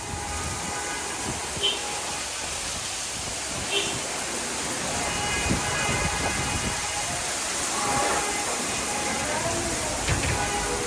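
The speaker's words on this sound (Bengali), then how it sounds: "এমন বৃষ্টি নামছে, এরকম বৃষ্টি দরকার না?" Heavy rain pours down in a steady, dense hiss, with faint voices and scattered sharper splashes and clicks in the background.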